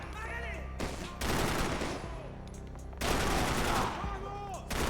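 Full-auto gunfire in Max Payne 3, two loud bursts of rapid shots separated by quieter stretches, with game voices faintly in the background.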